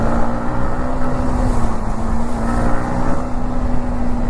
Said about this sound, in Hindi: कार जो मिट्टी उड़ा के जा रही है ना